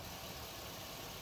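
A Ford 2600 tractor engine, started for the first time in years, runs at a steady idle throughout. The rumble is continuous and fairly quiet, with no voices.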